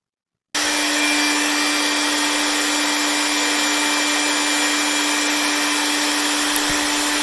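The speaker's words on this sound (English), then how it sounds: "I will show you what happens when we blow cold air onto our airfoil" A hairdryer or fan starts abruptly and then blows a steady, loud whoosh of cold air at a small airfoil, with a constant motor hum underneath and no speech.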